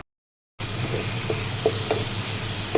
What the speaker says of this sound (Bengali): গরম মশলা আর জিরে গুঁড়ো, তারপরে নুন স্বাদ মতো দিয়ে ভালো করে কষিয়ে নিতে হবে।